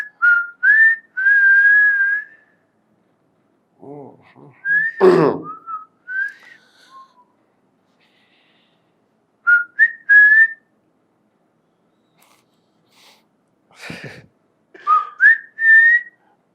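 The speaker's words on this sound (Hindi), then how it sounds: "लड़कियों को पहली बार सीटी बजाते देख रहे," Girls whistle in short tonal bursts and little rising phrases spread across the stretch, separated by silences, with a few breathy or percussive sounds between them.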